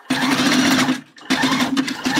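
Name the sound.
sewing machine stitching elastic on a bra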